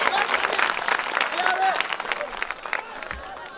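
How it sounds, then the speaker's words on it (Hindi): Loud audience applause at a mushaira, an Urdu poetry recital in Parbhani, dense clapping sustained for several seconds before tapering off, with a crowd murmur and some voices mixed in. "एक बार जोरदार तालियां बजाकर"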